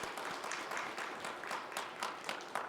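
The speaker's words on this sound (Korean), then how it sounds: "우리 큰 박수로 격려하도록 하겠습니다." A church congregation applauds with steady dense clapping, moderately loud and sustained throughout.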